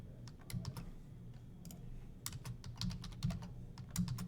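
A password is typed on a computer keyboard, with quick bursts of close key clicks in uneven runs that grow denser toward the end, with no speech.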